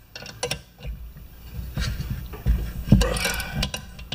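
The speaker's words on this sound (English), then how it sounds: "I got smart and I got my 1/4 inch ratchet out." A 1/4 inch ratchet clicks in quick, irregular bursts while loosening a bolt on a Briggs engine, with metallic clinks and handling noise close by.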